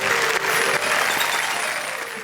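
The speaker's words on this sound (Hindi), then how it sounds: "जोरदार तालियां" Loud audience applause at a poetry recital show, a dense burst of clapping from a crowd that holds steady and then begins to taper off slightly.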